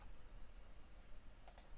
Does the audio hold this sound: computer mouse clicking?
yes